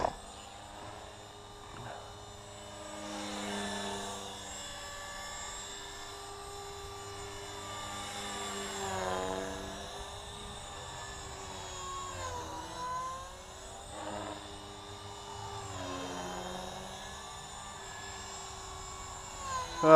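A 450 Pro radio-controlled helicopter in flight, a high whining rotor and motor drone that swells and fades as it passes nearer and farther, with pitch sweeping up and down during manoeuvres.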